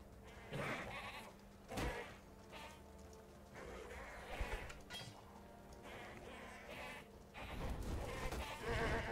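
Goats bleat repeatedly in the fantasy video game Path of Exile, their calls rising over a steady rain-like wash of background noise, with several loud cries near the start and end.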